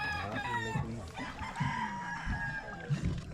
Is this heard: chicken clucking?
yes